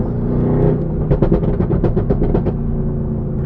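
A catless 800-horsepower Mercedes-AMG GT R idles with a deep burbling exhaust, breaking into a rapid lumpy series of popping pulses before settling back to a steady rumble.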